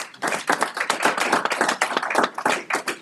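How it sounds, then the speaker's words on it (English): An audience at a county executive's address on a government shutdown claps steadily for several seconds, many hands making a dense, fairly close burst of applause with no talking over it. "yes, a clap, please"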